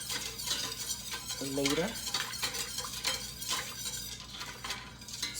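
Homemade eggnog ingredients are stirred in a pot, with a close, continuous stirring scrape and light clinks of the utensil against the pot, while a voice briefly speaks over it.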